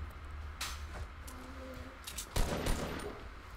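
Scattered gunfire in the game Fortnite, a few sharp single shots and short bursts at moderate distance, some shots echoing, with one louder volley near the end.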